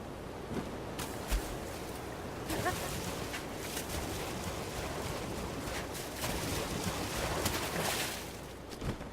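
Link swims up a waterfall in The Legend of Zelda: Breath of the Wild, a continuous rushing water roar with brief splashy surges over steady noise.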